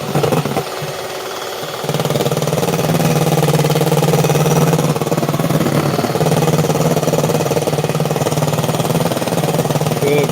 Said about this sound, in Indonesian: mixernya kurang canggih nih.